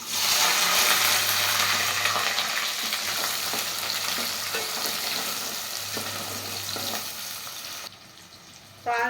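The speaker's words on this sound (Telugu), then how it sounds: "మనం కట్ చేసుకున్న పచ్చిమిరపకాయ ఉల్లిపాయలు పచ్చిమిరపకాయలు కరివేపాకు వేసేసుకుందాం" Green chillies, chopped onions and curry leaves dropped into hot oil for a fish pulusu, with a loud, steady sizzle that gradually eases, a few stirring scrapes, and a brief pause near the end.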